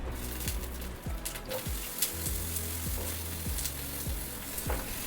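Steady sizzling of pumpkin pieces frying in hot oil with cumin and dried chillies, with repeated scraping strokes of a spatula stirring the pan, close up and continuous.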